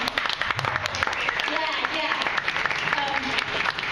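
Applause and clapping from a gathered audience at an open studios artists talk, steady and moderately loud throughout, with voices talking over it.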